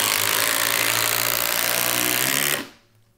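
Milwaukee M18 Fuel impact driver set on speed 3 driving a quarter-inch by 6-inch lag fastener, a loud continuous rattling hammer that runs steadily for about two and a half seconds and then cuts off abruptly.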